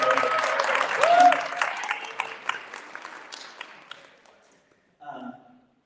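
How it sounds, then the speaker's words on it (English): A meeting audience applauds a guest named Chelly Muhammad. The clapping starts fairly full, thins and fades over several seconds, and a brief faint patch of sound follows near the end. "give Chelly a round of applause"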